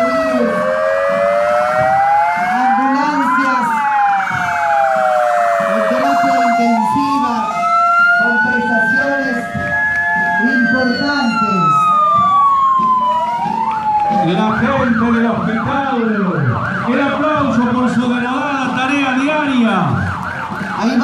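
Ambulance sirens wail loudly and continuously in a 25 de Mayo parade, with several overlapping rising and falling tones from passing emergency vehicles and faint crowd voices underneath.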